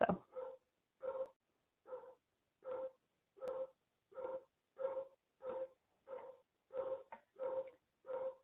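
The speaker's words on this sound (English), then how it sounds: "I'd like to know where the dog is that keeps barking." A dog barks repeatedly in the background of a meeting, about a dozen evenly spaced, fairly faint barks over several seconds.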